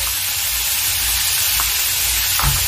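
Jackfruit seasoned with salt, turmeric and chilli powder fries in hot oil, giving a steady close sizzle with a few soft stirring scrapes, with no voices.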